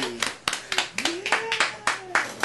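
A few people in a recording studio clap in a loose rhythm, sharp and close, with whooping voices rising between the claps.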